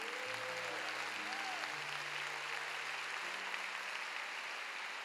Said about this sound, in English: Why don't you clap for him like he's awesome?